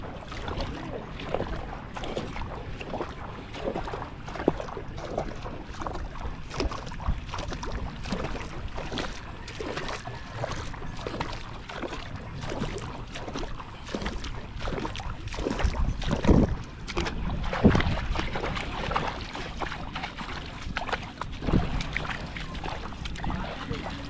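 A boat moves on open water near Burias in the Philippines, with steady engine or hull noise, splashing, wind buffeting the microphone and a few louder thumps, sustained for over twenty seconds.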